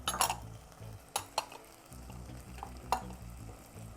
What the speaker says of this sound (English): You got your onions cooking down, your celery, your bacon's browning.